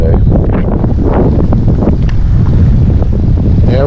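Wind and rolling waves buffet a fishing boat out on a lake in November, a steady loud rush of wind across the microphone with water sloshing and slapping against the hull throughout.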